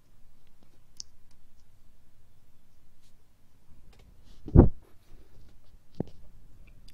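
Computer mouse clicks while a WordPress site is being edited in Elementor: a few sharp, isolated clicks spaced over a quiet background, with one louder click in the middle.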